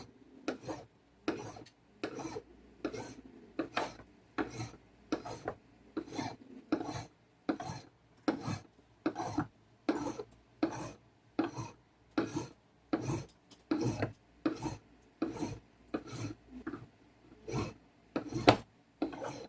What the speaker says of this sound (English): This one is a bit coarser file.